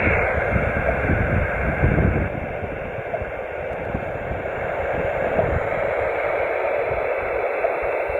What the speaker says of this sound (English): the receiver with some static there, but you can hear a beep coming through in the background